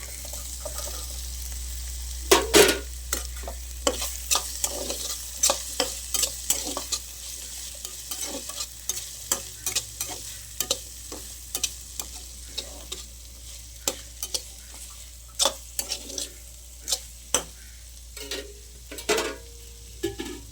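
Vegetables with capsicum being stir-fried for fried rice, with a spatula scraping and tapping the pan in irregular bursts over a steady low sizzle, close and moderately loud, no talking.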